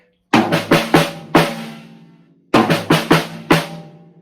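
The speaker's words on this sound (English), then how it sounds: "a little 5-note fill that you're going to do on the high tom and the snare" A drum fill is played twice, each a quick run of five sharp hits on high tom and snare with ringing decay, separated by a short gap, close and alone.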